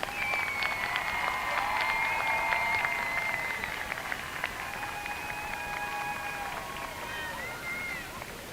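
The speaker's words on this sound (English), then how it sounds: "Round of applause for our senior choir, please." A crowd at the Brockton High School graduation applauds for the senior choir, sustained clapping mixed with high cheering and whooping voices that gradually thin out.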